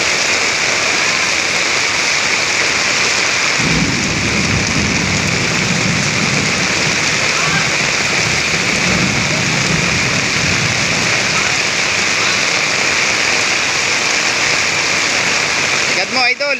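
A sudden, heavy downpour pours down steadily as a dense, loud hiss that fills the whole stretch, with a deeper low rumble swelling underneath from about a third of the way in and fading before the end.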